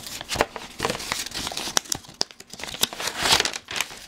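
Paper crinkles and tears as a mailed package of trading cards and a note is opened, a close, irregular run of crumpling, rustling and ripping with no talk.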